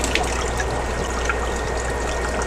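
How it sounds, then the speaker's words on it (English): Water trickles continuously from a drip emitter into a fish tank, a soft steady babble with small splashes over a constant low hum of aquarium equipment. "that water is running in a tank"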